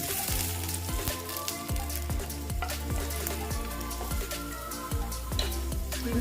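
Chopped garlic sizzles in hot oil in a pan for an egg dish, a steady crackling hiss with scattered sharp pops and a few light scrapes or taps against the pan, close and unbroken, no talking.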